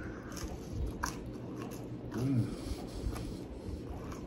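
Little Caesars pizza crust gets bitten and chewed up close, soft crunchy bites and chewing, faint against a low background hum.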